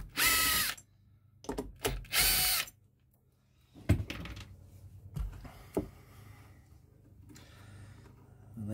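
Power drill backing wood screws out of a KEF T27 tweeter on a KEF Reference 104 speaker: three short, loud whirring bursts near the start, then quieter clicks and mechanical rattles as the screws come free.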